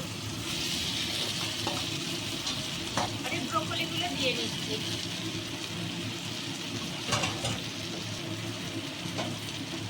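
Potatoes and broccoli fry with spices in a pan, a steady close sizzle with intermittent stirring scrapes and soft clatters of a utensil, at moderate level with no voices.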